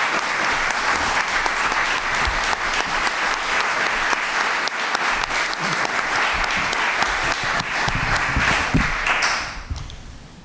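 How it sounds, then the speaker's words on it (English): An audience at the 2021 Westbrook candidates' forum applauds the candidates with a full, sustained round of clapping that holds steady for several seconds, then tapers off quickly near the end. "please join me in a round of applause for the candidates"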